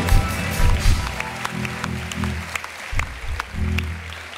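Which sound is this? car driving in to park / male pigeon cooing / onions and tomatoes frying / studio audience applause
studio audience applause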